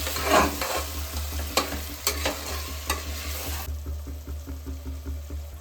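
Spice paste is stirred into a hot frying pan, with steady sizzling and scraping strokes of a spoon, loud at first and then softer with rhythmic stirring pulses.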